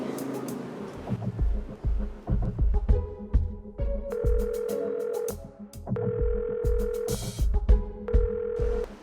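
A phone call rings out with repeated steady ringback tone bursts, layered over thumping background music and close handling noise, with no one talking.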